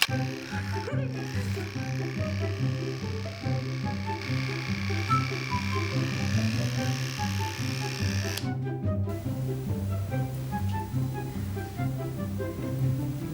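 Electric hair clippers buzzing near the head while cutting short micro bangs, a steady close drone with brief dips and changes in pitch as the blade moves through hair, with no speech.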